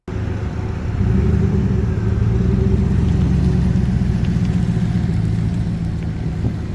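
A GMC Sierra pickup with 500,000 km and an oil pressure problem idles steadily, a loud, continuous low rumble of the engine close by with no voices.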